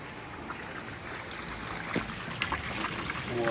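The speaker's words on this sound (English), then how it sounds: "The water's draining," Water drains from a Costway mini washing machine, model EP21684, as a faint, steady gurgling trickle with soft splashes that grows slightly louder toward the end.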